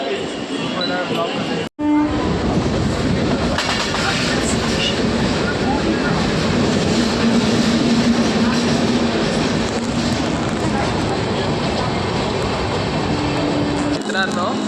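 Mumbai local fast train at a city station, a steady loud rumble of rolling carriages and rail noise throughout, with a brief dropout early on and people talking over it.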